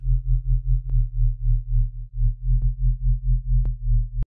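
A Serum synth bass with an automated LFO rate pulses in a steady wobbling rhythm, low and loud, with a few sharp clicks cutting in before it stops abruptly.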